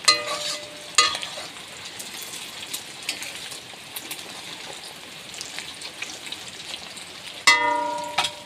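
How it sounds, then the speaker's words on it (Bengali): An egg fries in a pan, giving a steady soft sizzle with a couple of sharper clinks from the utensil near the start and end. "আর এই যে ডিম ভাজি করতেছি"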